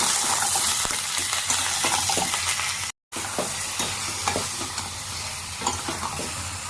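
Dry red chilli powder, salt and turmeric sauté in a pan for an egg curry, a loud continuous sizzle with repeated scraping stirs and light metallic clinks, cut by a split-second silence midway.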